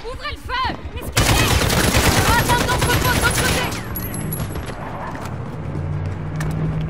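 Rapid automatic gunfire erupts in Call of Duty: Modern Warfare, a loud, dense burst lasting a few seconds that fades into a lingering rumble, with a voice talking at the start.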